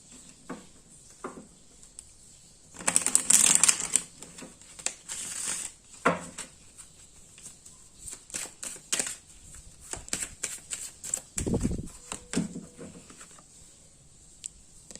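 Tarot cards being shuffled by hand during a reading, heard as bursts of soft riffling and patter with scattered taps and a denser rush near the start, close and moderately quiet, with no talking.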